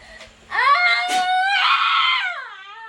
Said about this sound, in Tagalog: Huwag kang sumigaw.